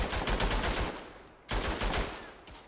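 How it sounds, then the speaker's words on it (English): Rapid machine gun fire rattles in the World War I shooter Verdun, two sustained bursts of close, loud automatic shots separated by a brief pause. "Oh dear, I keep shooting at my own teammates."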